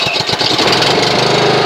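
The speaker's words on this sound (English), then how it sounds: "Watch how easy this starts." Honda HRX217HYA lawn mower engine cranking and catching, a few quick pulses settling at once into a steady, loud close-up idle with no one speaking.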